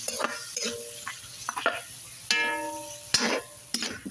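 Pork sautéing in a hot pan, a steady sizzle broken by stirring scrapes and a few sharp clanks of a utensil against metal.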